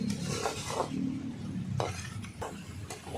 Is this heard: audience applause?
no